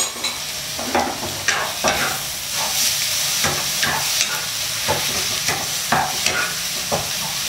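Pad see ew noodles with pork being stir-fried in a wok, a loud steady sizzle broken by repeated scraping and clanking strokes of the spatula in a quick, uneven rhythm, close up and with no talking.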